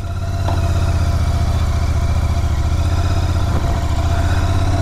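A powerful GT motorcycle engine labors up a bad, risky road without first gear. Its throbbing, rumbling note is loud and close, held steady throughout with some clatter over it and no voices.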